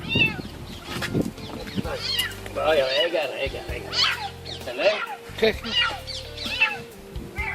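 A cat with its head stuck in a plastic jar meows repeatedly in high, strained cries, close by, with people talking over and between the calls.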